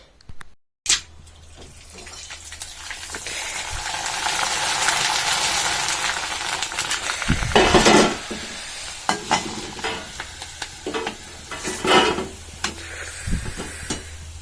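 Fish dropped into hot oil in a wok for a Bengali meal, a loud rising sizzle that holds steady, with sharp bursts of spitting and clattering of utensils, close.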